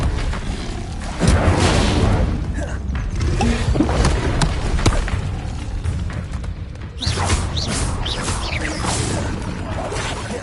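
A fire spell cast in Hogwarts Legacy, heard as whooshing, rumbling magical bursts with booming impacts among continuous game effects, the strongest flares near the start and again toward the end.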